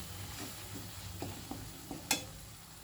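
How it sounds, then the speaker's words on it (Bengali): Spice paste frying in oil while being stirred, a faint soft sizzle with a few light scrapes and one sharper clink of the spoon against the pan, heard close but quiet. "মশলাটা খুব ভালো করে আমি কষিয়ে নিচ্ছি"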